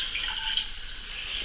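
Water poured into a bowl for hot-water pork pie pastry, a steady quiet splashing trickle running throughout with no talk over it.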